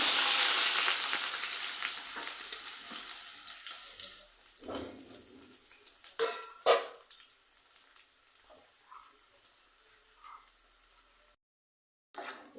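Onion, bay leaf and cumin frying in oil in a pan, a loud hissing sizzle at first that gradually fades, with a few sharp clatters along the way.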